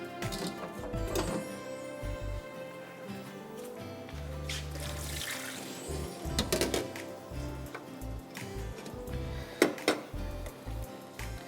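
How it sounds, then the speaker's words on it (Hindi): Eggplant pieces are dropped into a bowl of water in a kitchen while beef cooks, giving light splashes, wet knocks and clatter spread across the clip at close range, with no talking. "पानी में इसका निकाल दूं बैंगन का।"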